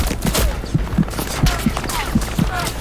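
Gunfire in the World War II shooter Hell Let Loose, a rapid series of close, punchy shots and distant bursts ringing out over a constant battlefield rumble.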